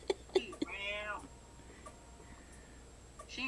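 A pet cat meows several times in a drawn-out, pleading way, fairly close by, begging for food with a bowl already full, with a few sharp taps at the start and a quiet indoor background.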